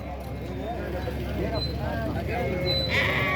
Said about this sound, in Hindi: ये मंडी में जनाब वाला जानवर, ये भेड़ देखिए माशाल्लाह, क्या बात है।